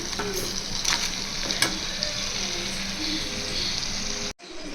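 Crab fry being stirred in a hot pan, a steady loud sizzle of frying with scraping stir strokes throughout, briefly cutting out near the end.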